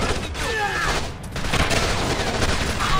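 Sustained bursts of gunfire in the video game Splinter Cell Conviction, loud and continuous with rapid shots layered over rumbling booms and game effects.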